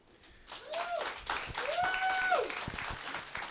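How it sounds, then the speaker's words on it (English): A live audience cheers and applauds. Dense clapping swells after half a second, with rising and falling whoops and whistles over it. "don't cheer for that"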